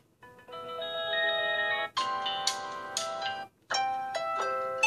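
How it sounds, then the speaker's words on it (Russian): A Samsung smartphone alarm melody rings out in bright, tonal chiming phrases separated by two brief gaps, clear and close with no talking. "О, это на будильник ужасная мелодия,"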